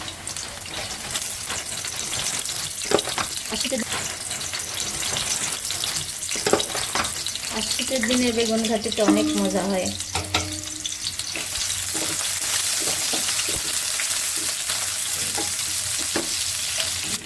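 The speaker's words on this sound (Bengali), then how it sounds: "আমি কড়াই চুলাই দিয়ে দিচ্ছি তেলও দিয়ে দিচ্ছি পেঁয়াজ আর রসুন দিয়ে দিচ্ছি" Onion and garlic fry in oil in a kadai with a constant close sizzle and occasional stirring clatter, while a person speaks briefly over the cooking midway through.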